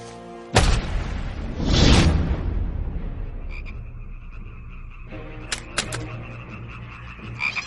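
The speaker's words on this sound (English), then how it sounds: "And frogs came up out of the river and spread over the land" Frogs croak in an animated scene of frogs coming up out of a river, with loud bursts and a whooshing swell before a thinner croaking chorus carries on.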